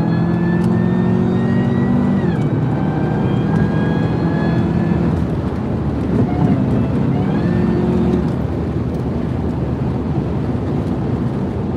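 Highway driving at very high speed, around 140 mph: loud continuous road and engine roar with rising tonal whines that shift pitch, steady throughout with no talking.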